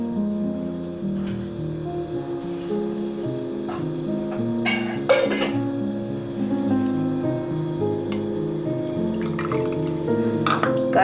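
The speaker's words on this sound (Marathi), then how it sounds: "आपण त्याच्यात थोडंसं पाणी घालणार आहोत." Water is poured into thick curd for dahi vada, a soft trickling and dripping splash set over a steady background hum, with a few brief clicks and no voices.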